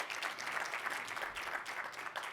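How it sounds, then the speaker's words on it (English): A conference audience at a tech keynote on generative AI applauds steadily, giving dense, even clapping that lasts the whole short stretch without a break. "Why don't you give him a round of applause as he comes up here?"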